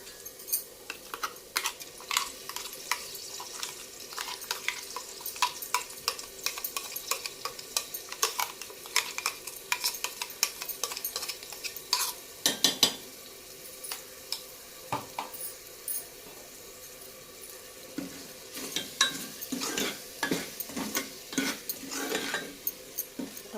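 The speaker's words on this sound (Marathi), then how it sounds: "मसाला याच्यामध्ये आपण परतून घेऊया." Ground masala being stirred and sautéed in a pan for a spicy peas and potato curry, a steady scrape of the spoon with light sizzling and occasional clinks of metal throughout, close and moderately loud, with no talk.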